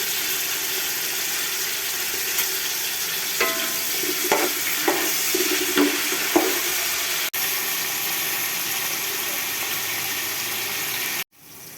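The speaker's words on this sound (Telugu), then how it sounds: "ఉల్లిపాయలు, టమాటా, పుదీనా, కొత్తిమీర, పచ్చిమిర్చి అన్నీ బాగా వేగినాయండి." Onions, tomato, mint, coriander and green chillies fry in a pan with a constant close sizzle, broken by several scraping stirs in the middle and a sharp knock near the end.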